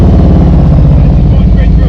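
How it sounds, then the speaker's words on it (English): A motorcycle engine held at elevated throttle, a loud, close, steady droning rumble with a constant pulsing growl throughout. "Listen to my throttle. I'm keeping it elevated the whole time."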